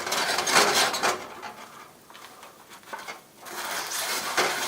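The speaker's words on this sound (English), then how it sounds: "You're going to scrape the salt against the wok here, so the surface of the wok will be clean again." Coarse salt scraped with tongs around a burnt carbon steel wok being cleaned, giving gritty rasping strokes in bursts with a quieter pause midway, close and fairly soft.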